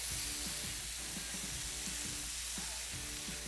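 Halloumi fajita filling sizzles loudly and steadily in a hot pan while being mixed, a close, constant frying hiss broken by faint stirring knocks and no talking.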